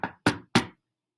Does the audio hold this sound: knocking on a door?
yes